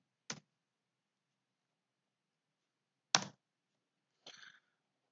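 Mouse clicks in circuit simulation software come as three short, crisp bursts separated by silence, the second louder than the others. Each burst is brief and close up, with nothing else in the background.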